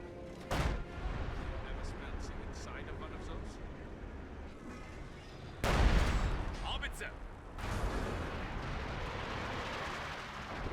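Heavy artillery fire in a Company of Heroes 2 multiplayer battle between Soviet and German armies: booming blasts around the start, near the six-second mark and again near eight seconds, over a continuous rumble of combat, with commentary talk alongside.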